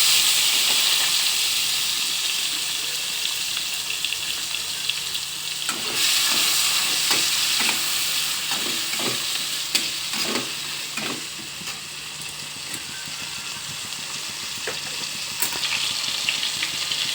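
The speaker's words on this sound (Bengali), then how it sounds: "এবার দিয়ে দেবো এর মধ্যে পেঁয়াজ কুচি, দিয়ে দেবো টমেটো কুচি। এবার ভালো করে নেড়ে চেড়ে নেবো নুন হলুদ দিয়ে।" Chopped onion and tomato stir-fry with salt and turmeric, a loud continuous sizzle close by, punctuated by repeated clicks and scrapes of a spoon stirring in the pan.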